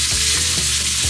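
Pork chops sizzling in a giant frying pan, a steady, loud, continuous hiss and crackle with no talking over it.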